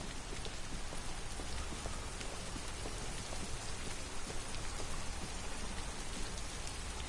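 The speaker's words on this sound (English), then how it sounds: "Obviously Alice needs to get out of the rain." Steady, heavy rain falls continuously in the video game Detroit: Become Human, a dense hiss with scattered drops pattering on surfaces, with no voices.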